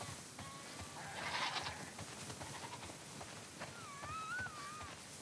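Several sheep bleat in The Last of Us Part II Remastered video game, a couple of wavering calls at different distances in a quiet setting, faint background ambience.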